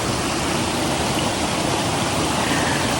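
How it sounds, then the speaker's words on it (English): A waterfall in a lush Blue Mountains valley roars as a loud, steady broadband rush of falling water that fills the whole moment without a break. "Like there's even a waterfall."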